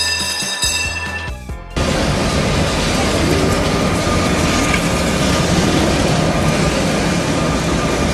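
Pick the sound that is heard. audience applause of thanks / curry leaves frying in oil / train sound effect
train sound effect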